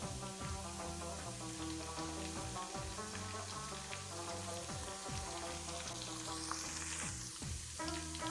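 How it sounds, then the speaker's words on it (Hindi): Green and red chillies frying in oil for aloo palak, a continuous low crackling sizzle with a faint, even texture, while steady music plays throughout. "इसको भी फ्राई कर लेते हैं अच्छी तरह से"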